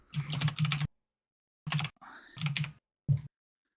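Typing on a computer keyboard, close, in several dense bursts of rapid key clicks separated by short silences.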